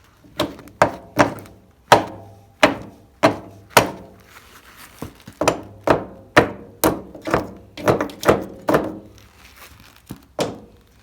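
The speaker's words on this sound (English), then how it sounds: "what I'm now going to do is hit it along with this hammer" Repeated sharp hammer blows on a metal steering part of a Bolens HT23 tractor, about fifteen strikes in uneven bursts, close and loud with brief gaps between groups.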